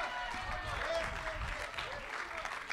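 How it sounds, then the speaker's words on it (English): Church congregation clapping hands during a sermon, a fairly quiet, steady wash of many hands clapping together, with faint voices beneath. "Somebody clap your hands if you believe that right now."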